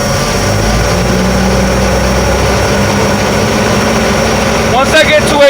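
Truck engine accelerating during an air brake pressure recovery test, a loud steady low diesel drone close by, with a brief rise and a voice speaking near the end.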